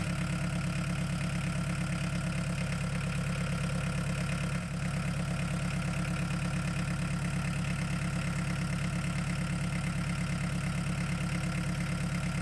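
A diesel engine idles steadily at about 1,047 RPM with a rhythmic low-pitched chug, unchanging and close, with no voices.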